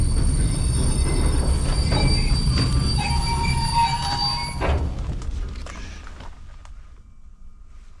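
A train passes at night, rumbling and clattering loudly and close with squealing wheels that ring out, then fades steadily as it moves away, with no voices over it.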